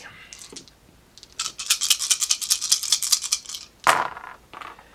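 Five dice rattle and tumble during a Dungeon Saga Origins board game, a loud continuous clatter lasting a couple of seconds, then a sharp knock and a few softer settling clicks.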